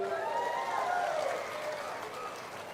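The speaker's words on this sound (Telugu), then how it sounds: "వేసామంటే గట్టిగా చప్పట్లు కూడా చెప్పండి" A crowd applauds at a public meeting where Chief Minister Chandrababu speaks at a pattadar passbook distribution in Rayavaram, a dense, distant wash of clapping that holds steady and slowly fades.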